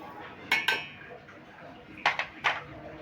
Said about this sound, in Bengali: এবার আমি পোস্ত আর সর্ষেটা দিয়ে দিচ্ছি